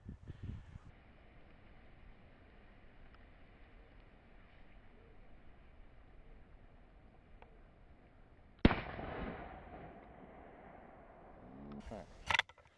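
A DRT 85 grain 9mm hollow point fired from an HK handgun into a washer and dryer pedestal, one sharp loud crack near the middle followed by a decaying ring, with a further burst of impacts near the end.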